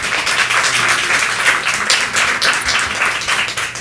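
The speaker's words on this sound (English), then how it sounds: "if you would hold any applause or other signifiers" Applause from an audience at a commission meeting, a steady wash of clapping from many hands lasting a few seconds at moderate level, with no speech over it.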